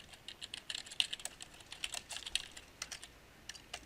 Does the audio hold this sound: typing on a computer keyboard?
yes